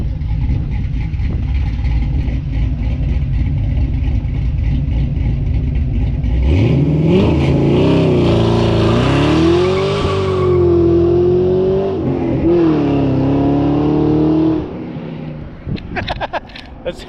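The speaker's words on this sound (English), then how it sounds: "You want to hear what a sloppy stage 2 sounds like and accelerating" A car with a sloppy stage 2 tune accelerates hard, its engine note climbing sharply from a steady rumble into a loud, rising roar that holds and wavers for several seconds before cutting off.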